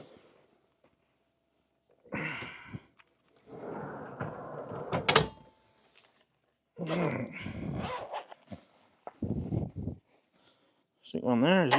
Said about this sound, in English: I've got to rearrange this drawer.